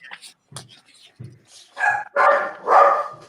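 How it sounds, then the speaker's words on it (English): A dog barks several times in quick succession, fairly close and loud, following quieter bursts of talk in a casual live online group chat. "Whose dog is barking?"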